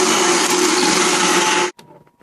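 Stick blender whirring loudly and steadily through lard soap batter, a dense high-pitched motor drone that cuts off abruptly near the end, leaving a few faint clicks and low rumbles.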